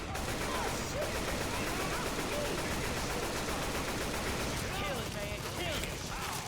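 Sustained video game gunfire, a dense continuous rattle of rapid shots that carries loud and steady throughout with a voice briefly heard beneath it.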